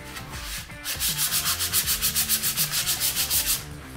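A wooden axe handle is sanded by hand with steady back-and-forth strokes, a close, even rasping rhythm of about a dozen passes with no talking.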